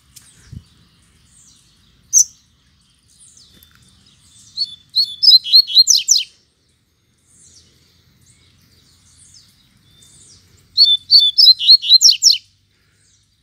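A coleiro, the double-collared seedeater, sings outdoors in two bright, rapid bursts of high, twittering notes, with a few isolated chirps scattered between them against a quiet background.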